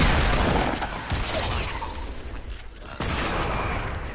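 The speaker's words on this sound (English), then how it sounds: "I think somebody's sniping at us." Gunfire rattles through a shooter video game, a loud, noisy burst of rapid shots with sharp impacts and mechanical clatter, dense throughout.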